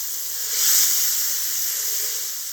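A grass-fed ribeye steak sears on a hot griddle, giving a steady, broad, close sizzle and hiss that swells slightly early on and then holds evenly throughout, with no talking.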